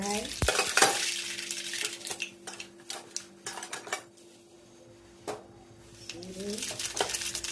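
A dal tempering fries in a pan as a utensil clanks and scrapes against the metal, with sizzling underneath. There are intermittent knocks, some louder bursts, and a quieter stretch midway.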